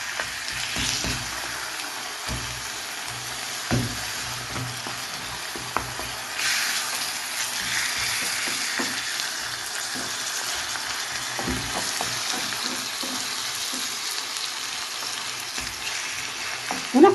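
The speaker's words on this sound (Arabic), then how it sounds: "هنا غنطيب هاد الصدر ديال الدجاج مع السلق طيبوا ليا مزيان" Chicken breast fries in a pan with chard and onion, a steady close sizzle with scattered clicks of stirring throughout.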